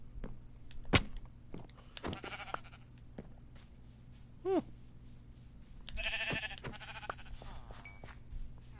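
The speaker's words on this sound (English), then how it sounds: "No, that's a sheep. I'm pretty sure that's a sheep." Sheep bleat in the Minecraft Bedrock video game on PS4, a few short wavering calls scattered among clicks, thuds and other faint game sounds, with no talk.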